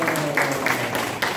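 An audience at a Korean local literature and arts exhibition event applauds in a brief burst of clapping, with a voice audible over the crowd.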